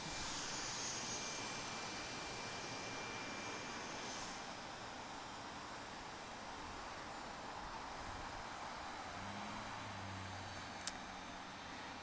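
Noisy jet airplane at Portland International Airport, a steady broad roar with a faint high whine that holds loud across the whole span, heard from nearby with no talking.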